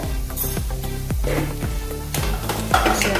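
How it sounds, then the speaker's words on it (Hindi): Spiced masala with dried fenugreek leaves (kasuri methi) sizzles steadily in a hot pan for a dam aloo dish, with a spoon scraping and stirring through it in repeated close strokes. "अच्छे से भून लेंगे इसको मसाले को अपने। इसमें कसूरी मेथी डालेंगे"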